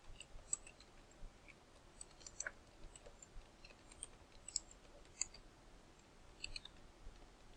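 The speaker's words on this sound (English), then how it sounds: "I'm just going to go ahead and type that label in here." Quiet, irregular keyboard typing, soft scattered clicks and taps at low level with no voices.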